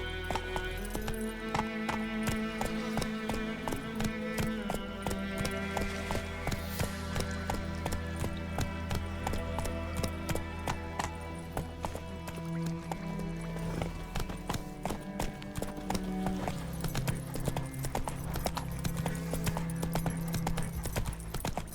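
Horse hooves clip-clop steadily at a walking pace in the game The Witcher 3, a continuous close rhythm running throughout with a few faint voices and ambient game sounds underneath.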